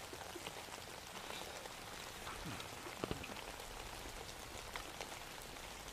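Light rain patters steadily on a tarp over a cold, foggy day camp during an ice storm, a soft continuous hiss of drops with a few louder taps close by.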